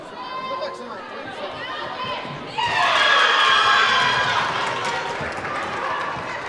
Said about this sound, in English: again, a highly enthusiastic crowd here